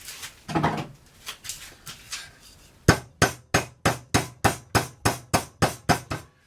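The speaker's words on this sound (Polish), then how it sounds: "młotkiem parę razy uderzyć" A hammer strikes a metal fuse repeatedly, first a few scattered knocks, then a steady run of about a dozen evenly spaced, sharp blows up close.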